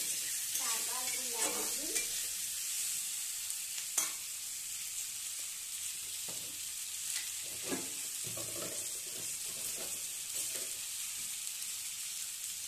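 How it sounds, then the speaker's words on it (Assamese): Onion and vegetables fry in a pan for a cauliflower and tomato fish curry, with a soft continuous sizzle and scattered clinks and scrapes from stirring. Faint voices are heard now and then. "এতিয়া এই পাচলিখিনি মই আকৌ পিঁয়াজ দিয়াৰ পাছত ফ্ৰাই কৰিম।"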